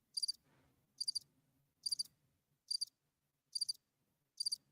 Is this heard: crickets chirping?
yes